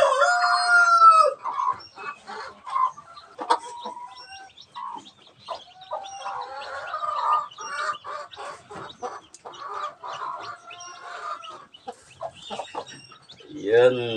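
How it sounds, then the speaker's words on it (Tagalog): Chicks and adult chickens cluck and cheep while being fed, with high chirps and busy clucking running steadily throughout at close range. "Yan, napakagandang sisiw."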